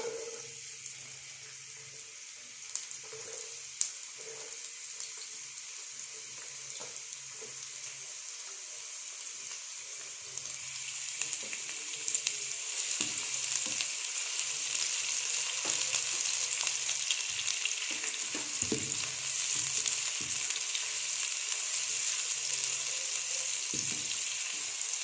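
Chopped onions sizzle and crackle steadily in hot ghee for a home aloo anda dish, a dense bright frying hiss that grows louder partway through, with occasional soft clinks of a utensil and no talking.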